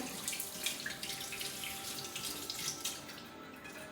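A kitchen tap runs steadily as dishes are washed by hand, a continuous close splashing stream with faint clinks and water spatter, no voices.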